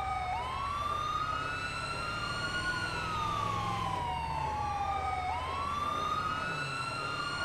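An emergency siren in the video game GTA V wails in long rising and falling sweeps, steady and somewhat distant, with no talking.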